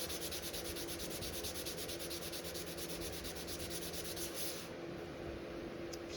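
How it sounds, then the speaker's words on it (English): Hand sanding of high build primer on a sailboat deck, a steady close scratchy rubbing that runs the whole time in a quick back-and-forth rhythm, then eases off near the end. "it all has to be sanded down to smooth"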